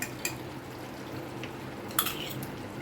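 Whisked yogurt added and stirred into mutton curry in a pan over low heat, with a steady soft hiss under a few faint, sparse clinks of a spoon against the pan.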